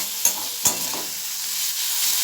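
Snake gourd frying in a pan, a continuous bright sizzle broken early by two quick knocks of a utensil being stirred through it.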